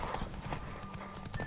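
A horse gallops in The Witcher 3: Wild Hunt, rapid rhythmic hoofbeats pounding close up with a brief whinny, game sounds over quiet background.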